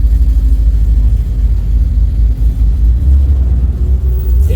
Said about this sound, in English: We got in front of me like a 65, 66 Buick Skylark.